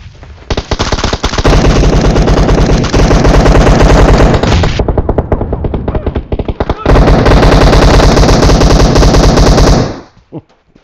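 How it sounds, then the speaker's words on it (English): Heavy automatic gunfire in PUBG Mobile, loud rapid bursts in two long stretches separated by a short pause, with no distinct grenade blast standing out. "Watch out, I'm throwing a grenade past the building."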